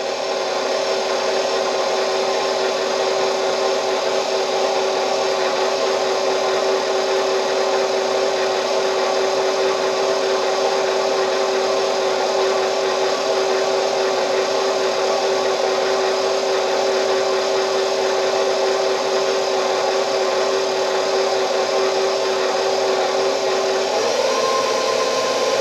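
Electric mixer blending pound cake batter in a home kitchen, a loud, steady whirring drone with a grinding, rubbing texture that runs unbroken for the whole stretch.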